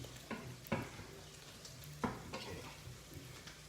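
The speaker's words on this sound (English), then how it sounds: "Take this, give it a good stir." Sauceless pasta mixture being stirred in a pan, with a few distinct scraping clanks of the utensil against the pan over a faint sizzle, fairly quiet, with a brief spoken word.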